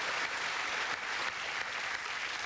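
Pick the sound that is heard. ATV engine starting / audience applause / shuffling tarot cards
audience applause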